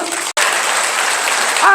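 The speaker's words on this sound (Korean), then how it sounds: "이때 박수 쳐야 되는 거 아니야?" A church audience at a Korean Christian ventriloquism show bursts into steady, close, dense clapping that runs almost unbroken, with a brief gap near the start.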